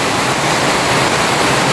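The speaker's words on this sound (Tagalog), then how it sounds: "biglang buhos ng ulan. Ganito po yung ulan" Heavy afternoon rain pours down in a dense, steady hiss of broadband noise, close and loud, with no voices.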